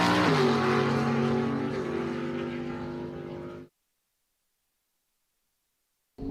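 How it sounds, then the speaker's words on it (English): Drag-strip launch at Empire Dragway of a Chevrolet Camaro and a Dodge Dart Sport: loud, close engine roar for several seconds that cuts abruptly to silence. "Jeff Rutan in the left lane with his engineered racing services Camaro"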